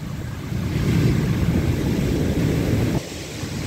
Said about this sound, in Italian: Ci abbiamo onde di 2 o 3 metri.